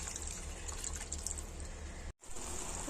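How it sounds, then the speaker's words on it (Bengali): Chicken stock poured into a pot of vegetables for chicken thukpa, a steady liquid wash of pouring and splashing running throughout, close and fairly quiet, with one abrupt brief gap near the end. "এরপর আমি চিকেন স্টকটা দিয়ে দেবো পুরো।"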